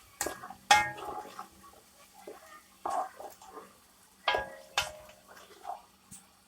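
Boiled, flaked fish being stirred into a semi-dry rice mixture in a pot: a series of close, irregular clinks and scrapes of a utensil against the pot, with quiet pauses between them.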